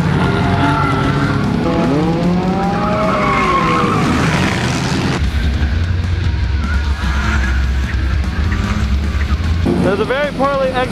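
Race cars skidding during a night enduro race, with loud continuous tire squeal and engine roar close by, with wind buffeting throughout and a shift in the engine drone midway.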